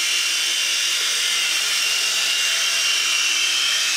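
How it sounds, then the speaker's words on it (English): Radio-controlled model Chinook helicopter coming in to land, a loud steady high-pitched whine of rotors and motors filling the whole span without break, no voices. "Give a nice controlled landing, Tom."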